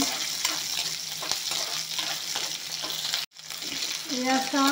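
Onion, garlic, bay leaf and panch phoron fry in hot oil in a pan, a continuous close sizzle with stirring scrapes, broken by a short silence, then resuming as a voice starts speaking at the end.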